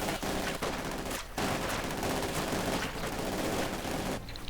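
Rapid gunfire and explosions from a Company of Heroes 2 battle, dense overlapping bursts of shots filling the clip almost without pause, loud and continuous.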